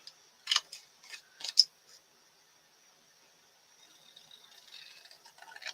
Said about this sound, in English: use our scissors and just trim it down